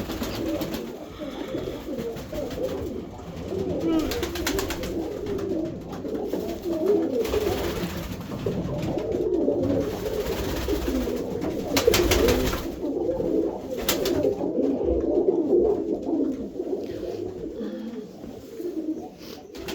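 Pigeons cooing in a loft or coop, soft repeated low coos overlapping and continuing steadily throughout, fairly close, with other birds present and no talk.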